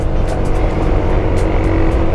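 A motorcycle engine drones loud and close while riding, a steady low rumble with constant road and wind noise and no pauses.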